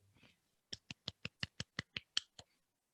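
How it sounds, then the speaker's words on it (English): Ten sharp percussive hand claps in a quick, even run, close and loud, after a brief murmur of voices at the start, during a tabletop role-playing session. "You're so good at clapping."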